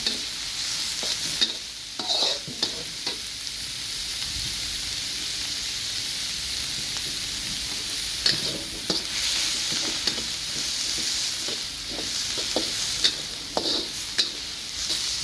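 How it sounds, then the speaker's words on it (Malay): Beef frying with shallots and garlic in a pan gives a continuous sizzle, with repeated scraping and clattering strokes as it is stirred, close and fairly loud. "Semasa kita menggoreng ni, bila kita buat daging bawang dengan bawang merah putih tu"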